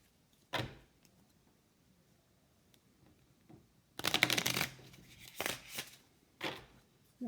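Playing cards are shuffled in a few quick riffling bursts, close and crisp, separated by brief quiet pauses.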